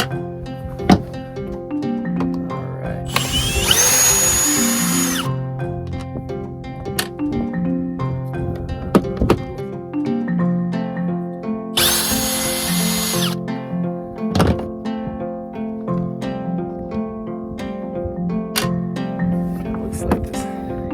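A power driver whines in two loud bursts, each lasting about two seconds, while backing screws out of a chainsaw's cover, with quieter handling clicks and taps in between.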